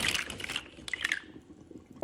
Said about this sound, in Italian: Adesso caliamo i paccheri.